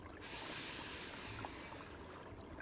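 Soft, steady wash of ocean waves heard faintly at a distance, a continuous hissing surf with no distinct breaks and no voices.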